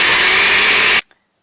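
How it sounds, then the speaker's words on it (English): A blender liquefying two whole oranges with their skins, a loud steady motor roar that cuts off abruptly after about a second, leaving silence. "I'm just going to pop the 2 oranges with all the skins and white stuff on them into the blender"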